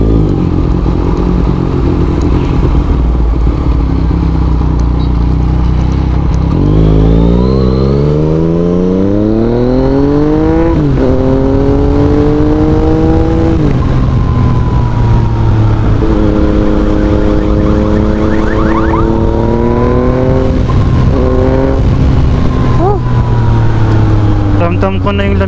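A 2016 Yamaha MT-09 motorcycle is ridden on the road toward Tagaytay, the engine loud and close as it revs through rising gear pulls with clear shifts, under constant wind rush.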